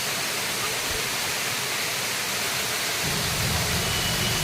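Sesharai waterfalls, a hidden cascade, pour as a steady broadband rush of falling water, constant and enveloping, thickening slightly toward the end with no voices over it.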